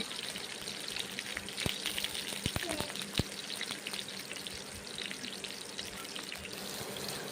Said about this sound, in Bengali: বেগুনগুলোকে ভেজে নেব